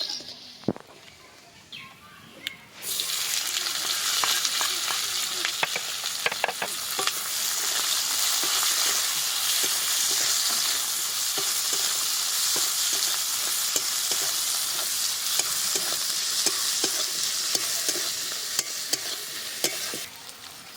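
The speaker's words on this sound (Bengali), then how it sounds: "সব কিছুকে খুব ভালো করে ভেজে নেব, তারপরে পেঁয়াজ কুচি দেবো।" Dry red chilies, whole cumin and whole garam masala frying in hot oil with chopped onion, a steady loud sizzle after a quiet start, with stirring scrapes and clinks throughout and faint bird chirps in the background.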